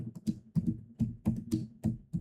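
Quick, uneven keystrokes on a computer keyboard while Python code is entered, about ten crisp taps in close succession, near and alone without speech.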